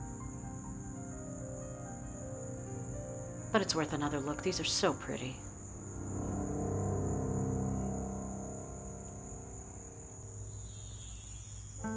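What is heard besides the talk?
cricket chirping in a garden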